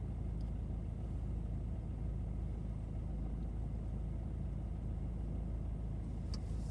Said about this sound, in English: I do have a car coming down on the left hand side at the moment